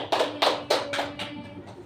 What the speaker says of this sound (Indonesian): Tepuk tangan untuk Mbak Dian.